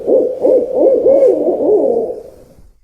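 An owl gives a run of close, loud, wavering hoots in quick succession that fade out after a couple of seconds, with no other sounds around it.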